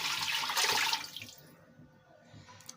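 Water is poured into a cooking pot of matar gosht, a bright splashing gush that tapers off after about a second, leaving a faint quiet background.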